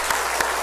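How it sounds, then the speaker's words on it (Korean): A church congregation breaks into applause, a short burst of many hands clapping together, steady and full, with no speech over it. "박수 한번 다시 한번 해주시기 바랍니다."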